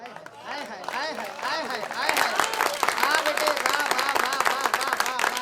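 At a Hindi kavi sammelan, a poet's voice declaims a heroic verse, then the audience breaks into a dense burst of applause that builds and carries on loudly to the end, with voices still audible underneath.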